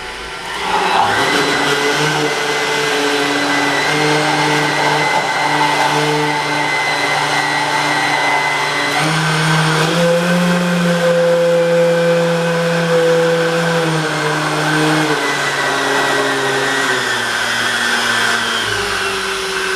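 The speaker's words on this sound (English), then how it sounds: "We're going to blend a little bit now." A blender whirs loudly and steadily through the whole stretch, its motor pitch shifting partway as the load changes, close to the microphone and without talk.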